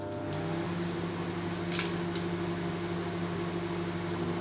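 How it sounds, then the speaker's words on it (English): A microwave oven runs while a gingerbread mug cake cooks inside, giving a steady, even mechanical hum with a constant drone and a few faint clicks, close and alone. "It's going in the microwave for 3 minutes"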